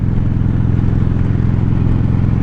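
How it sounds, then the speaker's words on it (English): Steady, loud motorcycle exhaust drone from a Kawasaki Vulcan Voyager with new Sharkroad mufflers, heard inside the rider's helmet, with a low, pulsing engine rumble that holds constant throughout. "some of the droning from the exhaust inside my helmet"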